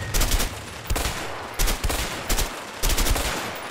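Several gunshots ring out in quick succession from a sniper rifle in the video game A Way Out, sharp cracking blasts with short echoing tails, loud and close, with no talking over them.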